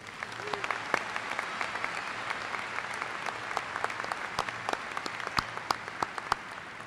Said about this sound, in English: Please acknowledge our honorary degree recipients with another round of applause.